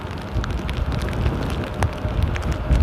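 Heavy rain during Storm Conall at Amsterdam Airport, a dense, steady hiss and patter of rain blowing into a parking garage, loud and continuous with scattered sharper drops.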